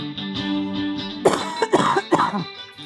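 A man coughs and clears his throat several times up close, with a few harsh bursts after a humming tonal sound.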